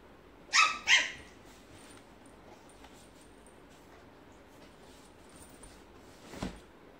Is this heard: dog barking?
yes